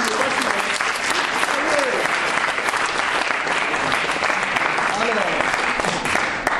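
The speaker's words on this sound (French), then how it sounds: "on peut l'applaudir" An audience at a children's show applauds, a loud continuous wash of clapping with cheering voices and chatter running through it.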